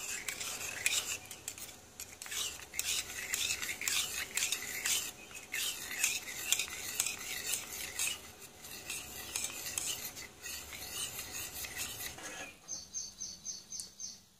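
Cold milk mixed with cornstarch being beaten for homemade vanilla ice cream: steady, busy scraping and whisking against a bowl for about twelve seconds, then stopping, leaving a quieter tail with a faint clink.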